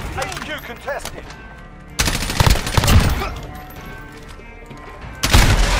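M4A1 assault rifle gunfire in the Modern Warfare video game, heard as bursts of rapid shots with loud clusters near two and five seconds over busy game sounds, with no speech.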